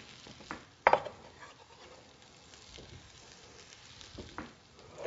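Chopped garlic cloves sizzling in a pot while making French onion soup, a quiet crackle with a sharp clatter of utensil against the pot early on and soft stirring afterwards.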